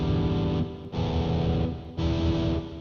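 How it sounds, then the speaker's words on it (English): A sustained, buzzing electric guitar tone with heavy distortion, played unfretted, swelling in three long waves that each fade slightly before the next starts. "when you've got distortion on, I'll put on some distortion."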